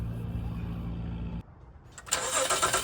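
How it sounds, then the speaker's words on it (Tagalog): A car with an oil leak from its VTEC solenoid is cold started: a low rumble cuts off, a brief starter crank follows, then the engine catches with a loud, broad roar up close. "kinold start natin yung sasakyan"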